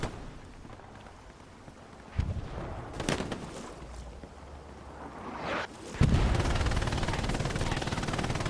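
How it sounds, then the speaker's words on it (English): Gunfire in the World War II shooter Hell Let Loose: distant shots and bursts crack sporadically, then heavier close automatic fire rattles in a sustained, loud stream toward the end. "I got shot at by like so many different people."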